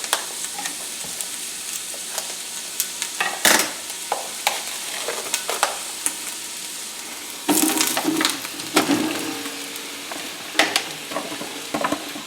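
Onions stirred in a hot pan with frying sizzle throughout, sharp scraping stir strokes recurring and a louder busy burst of stirring near the end.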